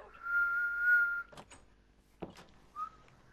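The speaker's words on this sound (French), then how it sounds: "celui qui arrive à siffler avec les doigts dans la bouche, envoyez-moi un message comment vous faites" A person whistles with fingers in the mouth, a steady shrill tone held about a second, then soft knocks and a brief second whistle, quiet and alone without talk.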